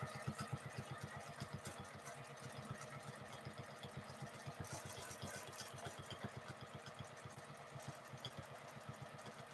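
A home sewing machine stitches continuously during free-motion quilting of feather designs, giving a fast, steady mechanical rhythm of needle strokes that stays even and fairly quiet throughout.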